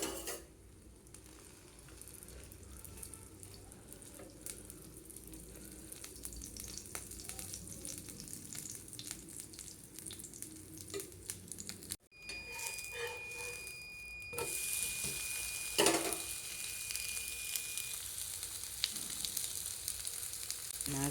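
Ragi uttapam fries in oil on a hot pan, giving a steady low sizzle with occasional scraping and stirring clicks; the sizzle brightens and grows louder partway through as fresh oil hits the pan.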